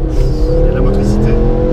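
A Ford Focus RS engine roars loud and close under hard acceleration as the wheels spin, a steady rising drone with voices speaking over it.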